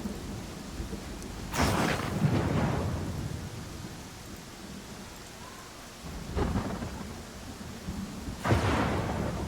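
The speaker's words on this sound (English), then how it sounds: "Man, that lightning is awful close." Thunder and heavy rain in the Pathfinder: Kingmaker video game, with three loud rolling thunderclaps breaking over a steady rain hiss, each rumble swelling then fading.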